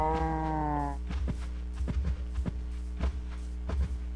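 A cow in the game Minecraft gives one drawn-out moo at the start, followed by a series of soft blocky footsteps and thuds over a low steady hum.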